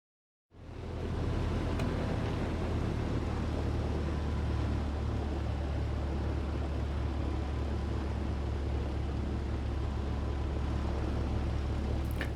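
Steady low engine drone of a Piper Arrow III taxiing in Microsoft Flight Simulator, starting abruptly after a brief silence and holding constant and loud throughout with a broadband hiss.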